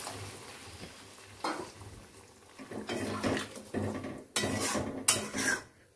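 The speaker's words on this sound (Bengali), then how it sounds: "এবার আমি এর মধ্যে পরিমাণ মতো একটু জল দিয়ে দেবো" Water is poured into a pot of cooking ghugni, with clattering pot and spoon knocks followed by louder splashing bursts near the end, close and without talk.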